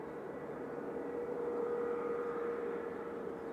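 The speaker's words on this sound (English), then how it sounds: "We've got Sun Express taxiing out for departure." A SunExpress airliner taxiing out for departure at Manchester Airport, a steady, distant jet engine whine and broad rumble holding at even loudness throughout, with no voices.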